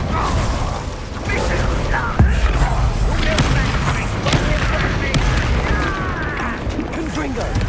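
Incendio fire spell effects from the Hogwarts Legacy video game, a busy stream of crackling bursts, booms and whooshing magic impacts. Sharp hits recur throughout at steady loudness under faint background voices.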